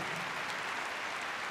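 Audience applause at the Crufts 2012 gundog display, a dense, steady wash of clapping from a large indoor crowd that holds evenly throughout without spoken words.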